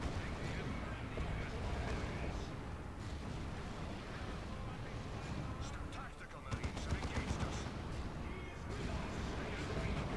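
Grenade launchers fire in a video game, rumbling blasts and crackling shots layered into a dense, steady barrage of battle noise, with a flurry of sharper bursts toward the end.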